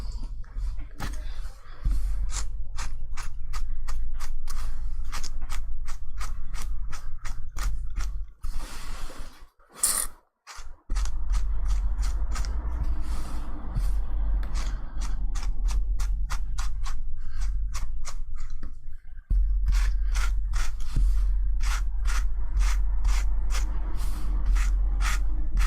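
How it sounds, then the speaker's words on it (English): The fur seams on a fursuit kitsune fox tail are brushed out in fast, loud, even bristle strokes that rasp close up with a brief pause midway, then resume at the same steady rhythm. "just gonna go and brush these seams"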